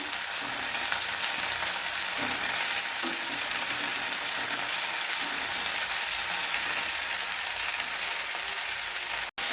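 Continuous close sizzle and crackle of mint and coriander sautéing in a hot pan, with occasional stirring scrapes and a sharp click at the end.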